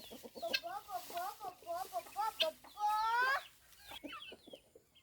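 Domestic chickens come in to feed, giving a run of close, repeated clucks and short calls, with one longer drawn-out call in the middle and quieter clucking afterward.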